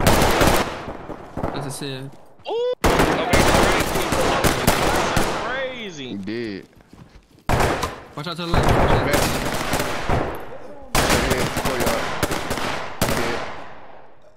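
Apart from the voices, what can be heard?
MX9 gunfire in the video game Ready or Not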